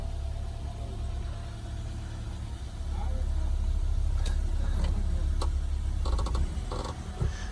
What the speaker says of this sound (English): The engine is running very nice.